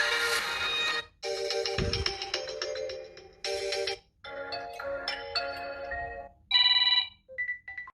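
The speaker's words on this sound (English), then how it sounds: "This one has built-in ringtones." A phone's built-in ringtones play from its speaker, a string of short electronic melodic tunes in bursts separated by brief pauses, fairly close and clear with no talking.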